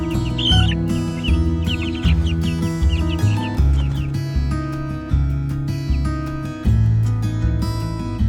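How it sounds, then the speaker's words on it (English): Chickens cluck and chirp after being moved into a newly built mobile chicken tractor coop in a field, with short calls scattered over a steady, tonal background sound. "All the chickens are in there."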